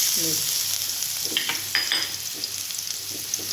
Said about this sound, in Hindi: तेल हमारा गर्म हो चुका है। अब डालेंगे मिर्च